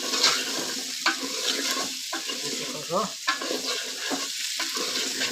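A sizzling tempering being stirred in a cooking pot, with the spoon scraping and clanking in bursts over a continuous hiss of frying; a voice speaks briefly.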